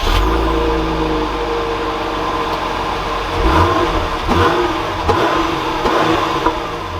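A 2021 Jeep Grand Cherokee Overland drives along, its engine humming steadily and then building with a couple of firmer surges of acceleration over road noise, heard from inside the cabin without talk.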